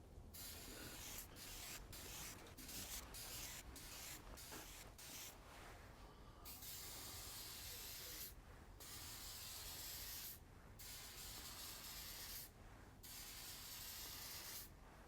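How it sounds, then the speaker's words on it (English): Short bursts of mold release hiss from a nearly empty aerosol can onto fiberglass tube mandrels, with several quick sputtering sprays and then longer gaps between three or four final weak blasts. Nearby and steady, with no talk. "This can is about to give out,"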